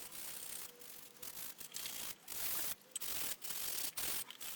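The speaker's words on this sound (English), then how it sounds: "give it a really quick sanding down, just to make sure there's no splinters" Rough, scratchy rubbing strokes of old, worn, rough sandpaper on pallet wood, repeated in an uneven rhythm with short pauses between passes, close up.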